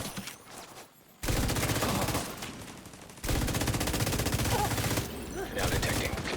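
Turret gunfire in a video game: two long bursts of rapid automatic fire, loud and dense, with a short break between them, over quieter game sounds and a voice.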